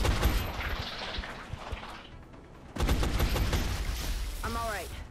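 Rapid bursts of suppressing gunfire in the video game XCOM, dense crackling volleys that ease off mid-way and then return loud and sustained, with a brief voice near the end.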